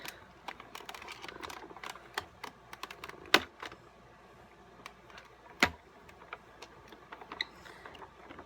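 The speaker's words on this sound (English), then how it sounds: "I'm going to place this in my handy dandy Cuttlebug. And then we will emboss away." A Cuttlebug embossing machine is cranked forwards and backwards, giving a quiet run of light ticks and clicks with two sharper knocks, close and faint.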